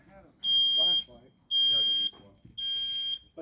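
A smoke detector shrieks during a live-fire training burn at a citizen firefighter academy, going off shortly after the fire is lit: three sustained, piercing beeps about half a second each, with a person talking in the gaps between them.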